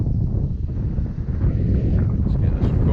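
Wind buffets the microphone in an open field on a gusty day as a loud, continuous low rumble, with a voice partly heard through the roar.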